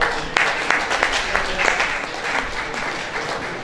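Audience applause at a university celebration for the International Day of Persons with Disabilities, a dense steady patter of many hands lasting throughout, fairly loud and close with some voices mixed in.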